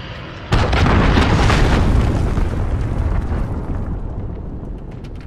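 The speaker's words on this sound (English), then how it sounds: "Enemy cruise missile incoming!" An enemy cruise missile strike in a video game bursts in suddenly as a loud, close boom, then rolls into a long, heavy rumble that slowly fades, with no talk over it.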